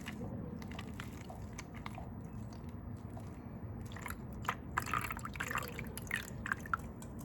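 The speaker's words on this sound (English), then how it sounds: "I'm gonna start by pouring in some water" Water is poured onto soil in a cup for an erosion demonstration, a soft trickling and dripping that grows into irregular splashes and gurgles, close and fairly quiet.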